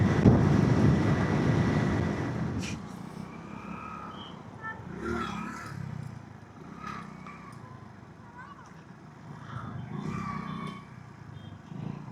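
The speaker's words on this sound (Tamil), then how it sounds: "எப்போ காற்று பயங்கரமாக தள்ளுது ஆளவே" Strong gusting wind buffets a motorcyclist riding through a hill station, a heavy low roar that swells and eases throughout, with faint noises breaking through now and then.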